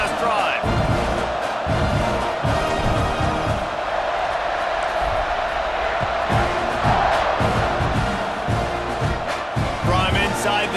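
Stadium crowd in a college football video game at a Texas A&M primetime game, a loud continuous roar of cheering with rhythmic chant-like surges throughout, under a commentator's talk.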